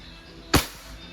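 A single sharp snap from a WE 2011 Hi-Capa T-Rex semi-automatic airsoft pistol being fired once over a chronograph, loud and close in a quiet room.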